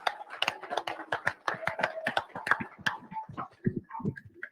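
Scattered, fairly quiet clapping from a small group at a drivers' meeting, with uneven individual claps rather than a dense roar, fading out after a few seconds.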